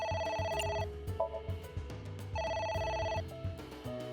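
A telephone rings repeatedly inside a video game, Ai: The Somnium Files, its electronic bell tones coming in regular bursts over steady game music.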